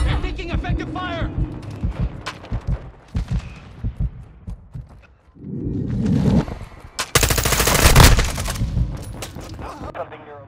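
Bursts of automatic gunfire from a Call of Duty Modern Warfare 2 multiplayer match, with rapid rattling volleys that swell loudest toward the end, mixed with game voice callouts and talk.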